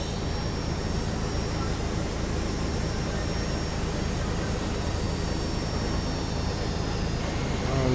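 An MD80 airliner's engines spool up in the X-Plane 11 flight simulator, producing a loud, continuous jet roar and whine that stays steady throughout.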